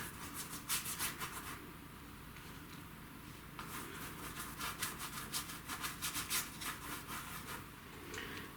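Acrylic paint scrubbed onto canvas with a paintbrush while painting a Van Gogh style peony background, heard as close, dry, rhythmic bristle rubbing in quick bursts of strokes, alone without talk.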